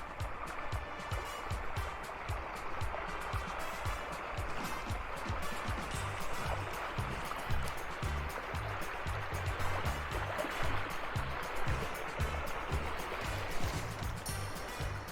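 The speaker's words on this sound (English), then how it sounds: "I think that's where the two rivers meet." Rushing floodwater where two small rivers meet and merge into a larger one, a steady, close, broadband roar lasting throughout, with faint rhythmic thuds underneath.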